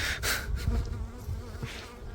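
A honeybee buzzes close by, a steady insect drone that rises and falls slightly as it moves.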